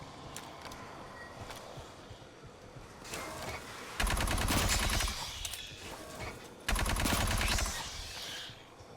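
Rapid automatic gunfire from a video game shooter fighting xenos and mutants, firing in two loud sustained bursts after a quieter stretch of ambient game sound.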